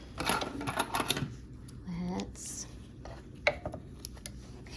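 A sewing machine stitching pieces of a quilt block, short bursts of quick mechanical stitching heard up close between stretches of quiet talk.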